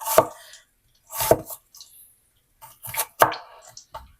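A knife slices lengthwise through an onion on a board, giving a few sharp, separate cuts about a second apart, close and fairly quiet, with nothing else heard.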